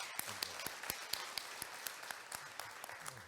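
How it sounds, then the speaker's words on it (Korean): Conference audience in a hall applauding after a panel presentation on ESG disclosure at a women's finance conference, many hands clapping in a dense, steady patter with a few sharper individual claps standing out. "박수를 부탁드립니다"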